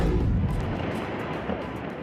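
A missile strike explodes and brings down a large building during fighting involving Israel, heard as a heavy, loud boom whose deep rumble slowly fades over two seconds.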